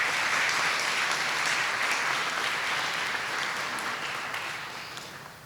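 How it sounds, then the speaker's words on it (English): Sustained audience applause for secondary Teachers of the Year at a school district awards ceremony, dense even clapping that holds steady and then slowly fades toward the end, no voices over it. "One big round of applause for the secondary Teachers of the Year."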